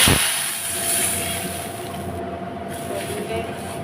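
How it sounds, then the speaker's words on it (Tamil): Water pours steadily into a cooking pot of roasted kodo millet for kesari, a continuous close hiss and splash lasting several seconds with no talk. "ஒரு மூணு கப் வந்து தண்ணி சேர்த்திக்கலாங்க"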